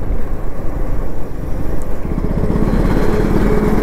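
KTM Duke 250 Gen3 motorcycle pulling in fourth gear, a steady loud engine drone with rising rhythmic pulsing as it accelerates, alone without talk.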